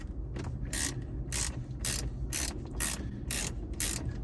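A ratchet with an extension and deep socket loosens a 7mm bolt in the dash of a 2011-2018 Jeep Wrangler JK, producing eight evenly spaced bursts of crisp, close ratcheting clicks, each about half a second apart.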